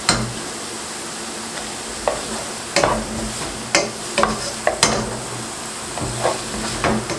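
Cabbage, green chilli and other vegetables stir-frying in a hot pan for veg fried rice: constant loud sizzle broken by repeated sharp spatula scrapes and clanks against the pan, with no talking.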